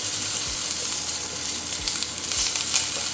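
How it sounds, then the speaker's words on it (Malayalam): Green masala sautés in hot oil in a frying pan for Kerala chicken chuttathu, a soft steady sizzle broken by three brief scraping stirs, close and with no talk. "നമ്മൾ എണ്ണ ഒഴിച്ചു കഴിഞ്ഞാൽ പച്ചമണം മാറുന്നിട വരെ കുറച്ചൊന്ന് വഴറ്റിയെടുക്കാം."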